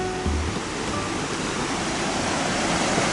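The Sanrentodoro waterfall in Kagoshima roars in a dense, continuous broadband rush of falling water, loud and close, with no voices.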